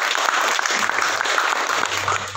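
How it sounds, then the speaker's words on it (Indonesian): Audience at the opening of a village sewing training gives loud, dense applause, a steady unbroken roar of clapping close up, with a low hum underneath. "Tepuk tangan semua."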